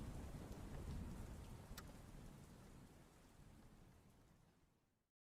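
Steady rain with low thunder rumbling underneath, played quietly as background music, a dense hiss that fades out and ends abruptly.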